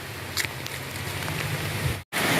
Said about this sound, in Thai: ตอนนี้ฝนก็ตกแล้วนะครับ